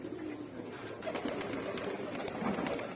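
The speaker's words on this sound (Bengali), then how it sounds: "এই হচ্ছে কবুতরগুলো" Khoira gola pigeons, female birds in a loft, make a steady low murmur of cooing and rustling that stays continuous and fairly close throughout.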